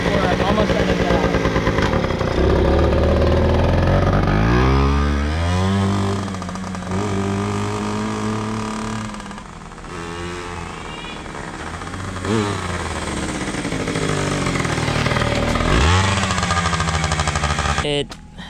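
A Yamaha PW80 dirt bike engine runs continuously up close, loud and raspy, with repeated revs rising and falling in pitch, and people talking over it.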